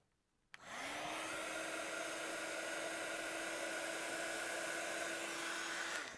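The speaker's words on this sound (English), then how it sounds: "Heat that up, and then you've got the little centre of the flower nicely embossed." A heat tool switches on with a sharp click and then blows a steady, loud whoosh with a constant whine, melting metallic silver sparkle embossing powder at the centre of a card flower. It runs alone, without a break, for about five seconds.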